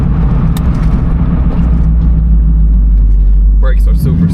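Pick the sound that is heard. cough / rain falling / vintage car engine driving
vintage car engine driving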